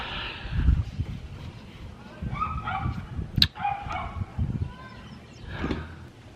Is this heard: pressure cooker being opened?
no